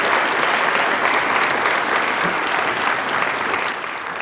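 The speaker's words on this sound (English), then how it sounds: "Give him a round of applause, please." An audience at a veterans program applauds steadily and loudly for a speaker being welcomed to the podium, sustained clapping that eases off slightly at the end.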